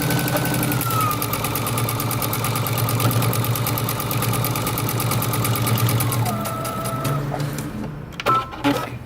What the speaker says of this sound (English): And then I'm going to sew down the sides.